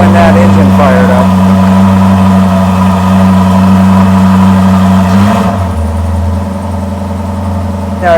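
A very loud Corvette V8 runs just after startup, a heavy steady low rumble with a strong fast idle that drops and settles lower around the middle, close by and dominating.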